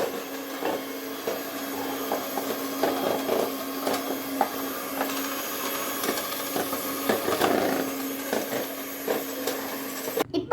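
Whisk beating cream for vanilla ice cream in a bowl, a steady mechanical whir with rhythmic scraping strokes, close and fairly loud, running alone throughout.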